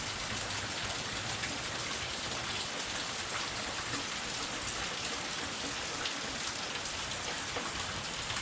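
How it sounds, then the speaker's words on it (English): Steady rain falling outside a house, a dense, even hiss of drops on surfaces that continues unbroken and fairly close throughout, with no voices. "Can't go out there now in the rain."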